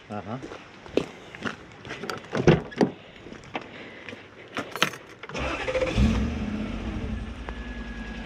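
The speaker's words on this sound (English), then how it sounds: "So it flares properly when you start it. Revs up." Keys jangle and clink with some handling noise, then a Toyota 1UZ-FE V8 engine, running on only four cylinders, cranks, catches and revs up before settling into a steady idle.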